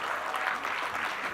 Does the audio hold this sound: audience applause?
yes